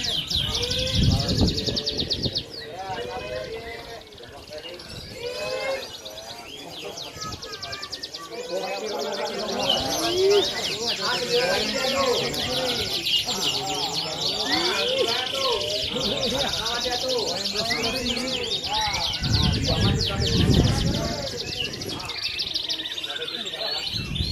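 A canary sings in dense, rapid chirping trills at a songbird contest, strong and close, while crowd chatter carries on underneath.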